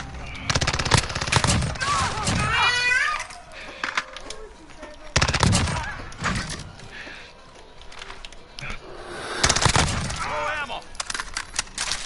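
Shotgun gunfire in Call of Duty Modern Warfare: loud, repeated blasts come in several clustered bursts, close and punchy, with a person talking in between.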